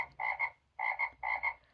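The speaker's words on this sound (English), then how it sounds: "I almost forgot the frogs." Frog croaks from a children's noisy farm sound book play in three clear bursts, each a pair of quick rasping calls separated by short pauses, loud and close with no talking.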